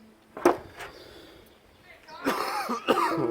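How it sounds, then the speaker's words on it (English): A man coughs in short, sharp bursts, a couple near the start and a heavier run of coughs toward the end, close to the mic in an outdoor garden among bonsai trees, with no talking. "Oh, sorry about the coughing."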